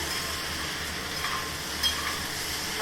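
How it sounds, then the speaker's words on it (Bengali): Soybean chunks stir-fried in a pan with a ground paste of ginger, tomato, cumin and coriander give off a faint, steady sizzle with light scraping stirs throughout. "এদিকে সোয়াবিনটা ভালো করে কষিয়ে নিলাম"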